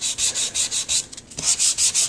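Hand sanding of scrapbook paper with sandpaper: steady back-and-forth rasping strokes, close and loud, about six in a row, a brief lull with light scratches, then four more strokes.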